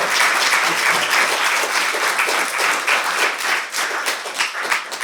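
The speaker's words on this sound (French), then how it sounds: "On peut applaudir." A university audience applauds steadily after a reading, a dense wash of many hands clapping that holds for several seconds and begins to thin slightly toward the end.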